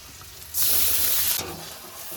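Green chillies hit hot white oil in a pan, setting off a sudden loud hissing sizzle that lasts about a second before settling into a quieter steady fry, close up and without talk.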